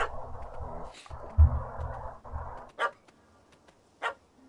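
Dog barking in The Witcher 3: Wild Hunt, a burst of close yips and barks over a busy low rumble, then two short sharp barks standing alone against near quiet.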